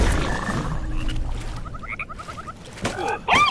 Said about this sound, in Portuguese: Un sapo se me está atacando